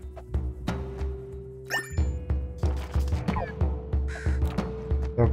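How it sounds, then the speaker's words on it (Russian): Crow cawing in the video game Chasm, mixed with game music and thuds: a few short harsh calls stand out amid the rhythmic in-game sounds. "Так, ворона куда-то улетела."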